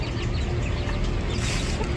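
A hen clucks among a farmyard flock on a family outing, her calls blending into a dense, steady bed of nearby bird noise with no clear pauses.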